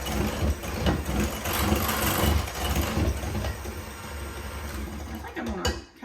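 Pumpkin roll batter with spices whirring in a mixer, a steady motorized hum running loud and continuous for several seconds before easing near the end.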